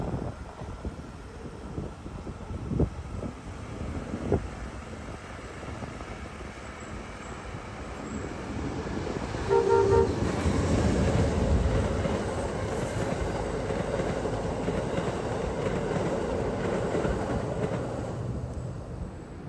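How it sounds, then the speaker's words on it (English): The northbound Amtrak Carolinian passenger train rolls past with a continuous rumble and rhythmic clickety-clack of wheels, growing louder midway and staying steady, with wind buffeting the microphone. "My final catch here was the northbound Amtrak Carolinian."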